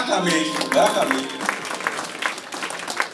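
A church congregation breaks into applause at an Easter celebration, with scattered claps rising and falling under a speaking voice.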